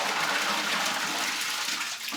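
A home toilet flushes with a bowl full of Swedish Fish gummy candy, a steady loud rushing and gushing of water that continues throughout without speech.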